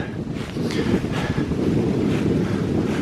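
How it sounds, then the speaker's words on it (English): Steady wind gusts roar across the microphone along a woodland footpath, a continuous loud rush with no talking. "It is really breezy today."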